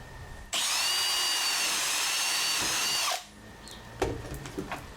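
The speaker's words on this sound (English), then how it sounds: "when I drill the holes into the panel" A power drill bores holes into a drop panel for a pneumatic pirate prop, a loud close whine held steadily for about two and a half seconds before stopping, followed by light handling clatter.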